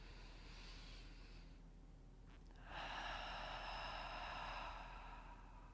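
Slow, deep breathing during a yoga session: a soft breathy inhale, a pause, then a longer exhale through the mouth. Close and quiet, with no talking.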